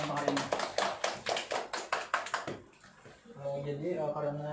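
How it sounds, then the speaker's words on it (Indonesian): A classroom of students gives a short round of rhythmic clapping, about a dozen sharp, evenly spaced claps close by, then the clapping stops and a voice begins speaking. "Tepuk tangan untuk hari ini."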